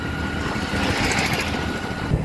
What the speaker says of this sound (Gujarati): mini tractor